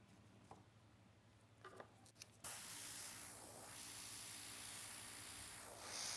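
Air nails spray hisses in a steady, close burst onto painted nails, following a few faint clicks and taps before it starts.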